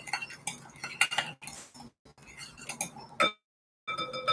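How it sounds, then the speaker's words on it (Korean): A spoon clinks and scrapes against a container as pickling liquid with sugar is stirred, giving quick close tapping and rattling in bursts with a couple of brief pauses. "그러니까 이렇게 저어주세요."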